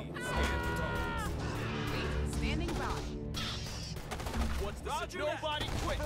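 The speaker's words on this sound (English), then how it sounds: "Sniper team, opening fire." Sniper team opening fire in a Starship Troopers: Terran Command battle, sharp shots and bursts of gunfire mixed with combat noise and music, with voices talking over it.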